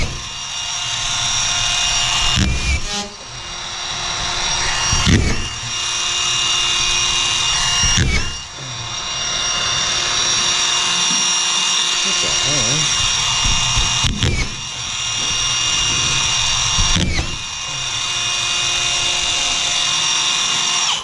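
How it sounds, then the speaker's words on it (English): Hilti SD 5000 A22 cordless drywall screwdriver whirring steadily in several long bursts separated by brief pauses, loud and close, with a constant electric motor whine throughout. "watch the Hilti SD5000 in action"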